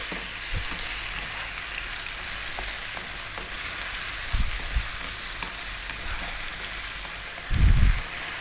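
Red onion and chopped garlic fry steadily in a pan, a continuous hiss and crackle under occasional knocks and scrapes of a spoon stirring them, with a louder clatter of the utensil near the end.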